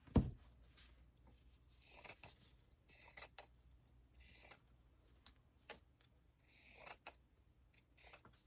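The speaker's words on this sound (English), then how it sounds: "Gonna use my pinking shears." Pinking shears snip through decorated paper for journal pages, a string of quiet, close crisp cuts arriving in uneven bursts with short pauses between them.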